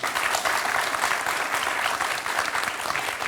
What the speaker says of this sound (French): Je crois qu'on peut l'applaudir quand même